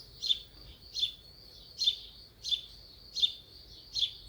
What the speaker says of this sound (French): le chant des oiseaux accompagnait cette douce mélodie